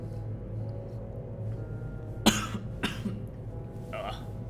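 A person coughs twice in quick succession, sharp close bursts over a quiet hum of room background, followed by a brief softer throat-clearing sound.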